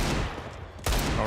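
A sharp gunshot in Counter-Strike cracks out near the end of a short stretch of gunfire noise, loud and close amid the match.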